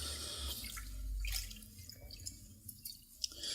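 Rice being rinsed by hand in a bowl of water to wash off starch, with soft sloshing, squishing and dripping sounds close by, quiet and uneven, without talk.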